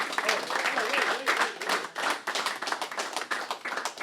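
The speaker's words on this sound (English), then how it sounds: "Let's clap it up for our FDA." Audience at a luncheon event claps for a group, producing a burst of mixed hand claps and taps alongside voices, fairly close and lively throughout.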